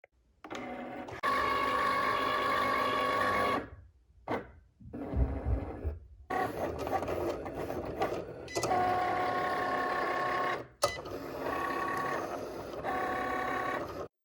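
A Cricut cutting machine with its regular blade cuts cardstock, giving a steady whirring, buzzing motor drone in several long runs separated by short pauses, close and fairly loud, with no talking.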